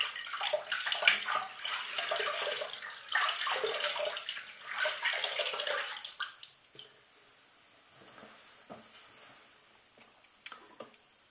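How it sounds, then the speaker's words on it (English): Running water from a tap as a face is wetted before shaving, a splashing rush for about six seconds, then faint drips and small splashes as it stops, quiet and close. "So let me go get my face wet."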